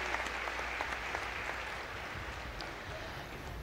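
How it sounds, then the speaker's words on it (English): A crowd applauds the ASEAN foreign ministers and heads of delegation at the 50th anniversary of ASEAN, a steady wash of many hands clapping at moderate distance, no voices over it. "Let's give the ASEAN foreign ministers and heads of delegation a big round of applause"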